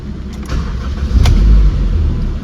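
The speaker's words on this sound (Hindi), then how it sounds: "अभी गाड़ी स्टार्ट करके देखते हैं।" A Honda Civic project car's engine cranks and catches, a short burst of starter whir followed by a steady low rumble close by, with no talk.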